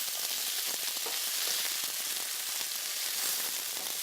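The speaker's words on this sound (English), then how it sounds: "Now is zucchini time. We add it in. Mix it together well." Sliced zucchini sizzles and fries in a hot pan as it is stirred in with other vegetables, giving a steady, dense crackling hiss throughout.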